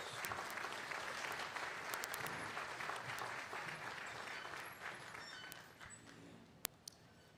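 An outdoor Veterans Day ceremony crowd aboard the Battleship New Jersey applauds the bagpipe and drum band, a soft, distant, steady patter of many hands that slowly tapers off, ending with a couple of isolated claps.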